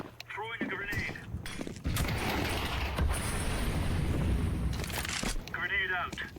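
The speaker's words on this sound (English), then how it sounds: "Throwing a grenade." A grenade is thrown and explodes during a Counter-Strike 2 match, a sustained loud burst of broadband blast and gunfire-like noise filling the middle of the clip, with a voice speaking briefly before and after.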